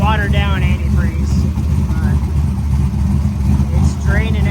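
A car engine idles with a steady, low, continuous rumble while a person talks over it nearby.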